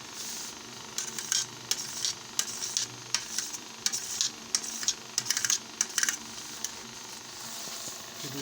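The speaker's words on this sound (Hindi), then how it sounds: "हम ये जेली काट लेते हैं इस तरह से, छोटी बड़ी जिस तरह से आपको पसंद हो" A knife cuts set jelly into pieces in a kitchen, making a run of quick, light taps and clicks against a board in irregular bursts, close and crisp against a quiet background.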